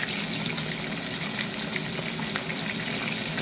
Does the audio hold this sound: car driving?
no